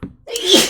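A single sharp human sneeze, close and loud, with a brief inhale before the explosive burst.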